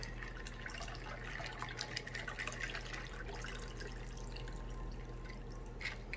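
Liquid trickles and splashes as a mixed margarita-style drink is poured into a cup, close and soft, with a steady low hum underneath and no talking.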